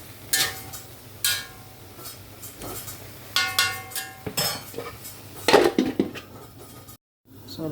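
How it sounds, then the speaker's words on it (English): A utensil stirs chop suey vegetables and chicken liver in a pan, scraping and clinking against the metal in irregular strokes over a low background hum. "Continue stirring."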